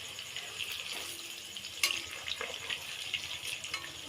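Palm pitha fries quietly in oil in a wok after being turned over, giving a soft, steady sizzle with a few light clicks and taps.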